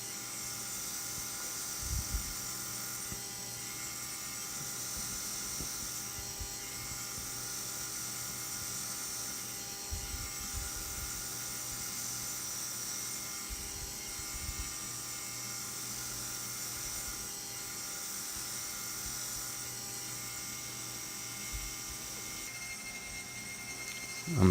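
A belt grinder runs with a steady high whine as a bushcraft knife blade is ground on a fine belt of about 400 grit, with a continuous even tone and faint irregular contact scrapes throughout.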